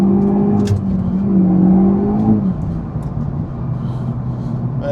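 A Renault front-wheel-drive hot hatch accelerates hard on a road, its engine note climbing loudly through the gears with a brief shift dip, heard close from inside the car.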